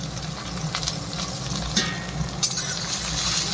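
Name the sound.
tomato and onion frying in pan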